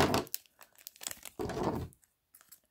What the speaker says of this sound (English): and now to open these cards.